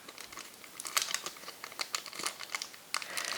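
A double plastic bag holding a ring from a Temu jewelry order crinkles and rustles in close, irregular bursts as it is unpacked, with no talking.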